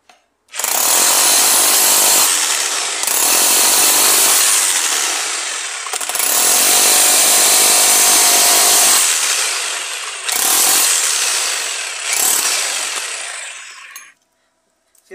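A cheap Teeno model 32 rotary hammer in chisel mode, setting 5, chips away concrete to expose steel rebar: loud, harsh, continuous hammering in several long bursts separated by brief pauses, with no talking.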